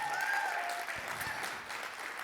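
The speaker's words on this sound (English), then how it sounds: "Can you give my mother, Bessie Storey, a big clap?" Congregation clapping at a church service, a brief, fairly quiet burst of applause with a faint tone at the start.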